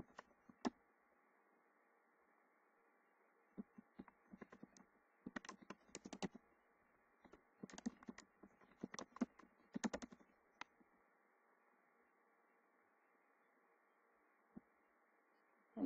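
Keys clack on a computer keyboard while code is entered, coming in irregular bursts of quick taps with brief pauses between them, fairly close and quiet against a low background hum, with no talking.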